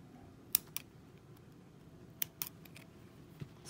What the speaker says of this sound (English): And then you just cut a hole, a small hole right there.